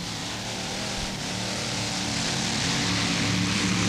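A monster truck engine at an outdoor event in Bowling Green, Ohio, drones loud and steady after switching from alcohol to gas. The roar is continuous and rough and swells slightly toward the end.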